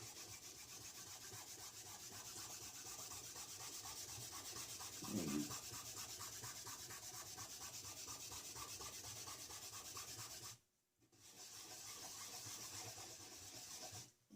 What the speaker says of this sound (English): Now what you do is you take your polish and you just rub on there.